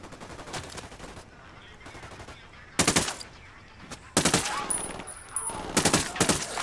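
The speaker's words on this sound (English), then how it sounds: "Taking fire from the checkpoint." Bursts of automatic gunfire in the Ghost Recon Wildlands video game, several sharp rattling volleys with gaps between them over a quieter background, with some voices.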